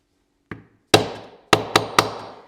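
A leather belt being tooled with a metal stamp struck by a hammer, five sharp, close knocks at irregular intervals, each ringing briefly before decaying, with no other sound around them.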